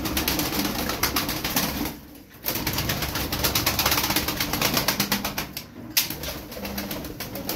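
Pigeons kept by a Turkish bird seller make soft, repeated coos and rustling sounds through a busy, continuous close-up texture, with two short near-silent breaks.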